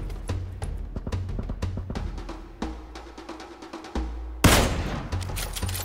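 Gunfire in the video game PUBG, with rapid shots in uneven bursts, some loud and close, and a heavier blast near the end over a constant low background rumble.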